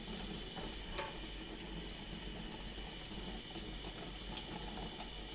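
Water runs through a siphon pipe while beer is racked by hand, a faint, steady flow with small clicks now and then and no talking.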